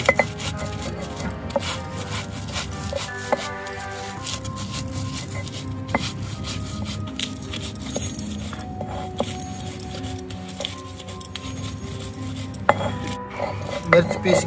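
Green chillies, garlic and salt ground on a sil batta grinding stone, heard as continuous scraping and rubbing strokes with scattered clinks, fairly close and steady throughout, with no talking.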